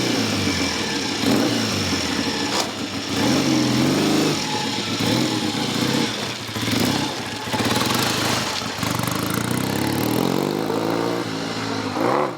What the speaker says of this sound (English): he's happy with the bike now, and it runs really nice and sweet, and he's happy, and he's out now for a ride on it